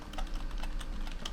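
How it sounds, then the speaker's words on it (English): Quick, light clatter of typing on a computer keyboard, a rapid uneven run of key taps close by at moderate volume. "You can hear me typing in the background."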